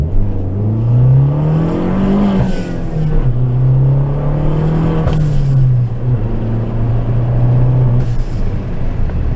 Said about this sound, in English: you get the blow off valve sound after 6 psi, but it's actually 3